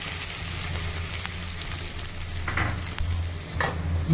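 Sliced onions fry in a pan with a steady, close sizzle, while stirring strokes scrape and rustle through the hiss at intervals.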